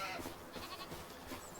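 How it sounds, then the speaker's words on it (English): A baby goat in the farming game Farming Simulator 25 gives a short, quiet, wavering bleat over a soft background hum. "We got a little baby goat there."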